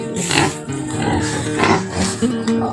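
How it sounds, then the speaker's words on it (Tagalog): A wild boar at a farm pen grunts and snorts in a loose series of rough, fairly close calls over steady background noise, with no talk. "Ito po guys yung baboy ramo nila"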